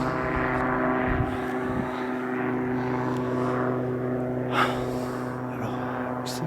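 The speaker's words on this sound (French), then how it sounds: "apparemment c'est un hélicoptère privé." A private helicopter flies overhead above a mountain landscape with a waterfall, its steady rotor and engine drone holding throughout at a moderate, even level.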